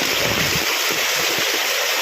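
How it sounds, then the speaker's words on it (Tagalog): Strong floodwater current rushing in a steady, loud, broadband roar that fills the short stretch without a break. "lakas ng agos, oh."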